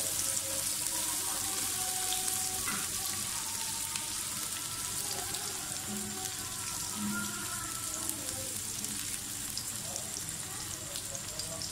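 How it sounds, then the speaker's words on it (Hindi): Onions fry in a pan with a steady, soft sizzle and crackle that runs throughout, plus occasional faint stirring clinks close by. "प्याज को अच्छी तरह से फ्राई कर लें।"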